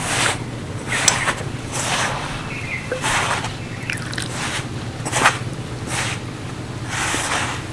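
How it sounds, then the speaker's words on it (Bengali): Potato and sago dough worked by hand, a rhythm of wet squishing presses and squelches repeating about once a second, close and fairly loud without speech. "আলুর রসেই ভালো করে মেখে নিচ্ছি"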